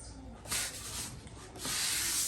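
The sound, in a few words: LG stove being slid into place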